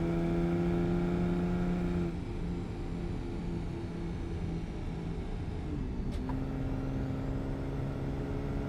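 Toyota SUV mod vehicle in Euro Truck Simulator 2 driving with a steady, loud engine drone that shifts pitch midway as the speed changes, continuous and alone without talk.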